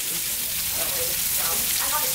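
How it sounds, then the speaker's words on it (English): Snook fillet frying in a pan gives a steady, close sizzle with soft crackling pops throughout, loudness holding even from start to finish. "Now when you're frying it, you're gonna wanna just cook it until you see the bottom get nice and brown and crunchy."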